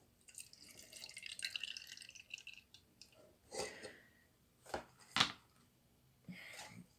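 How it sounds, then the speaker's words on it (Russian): Solution being drained from a tray, giving a run of faint, close drips and small splashes, irregular and sparse, with quiet gaps between them. "Сливаю раствор."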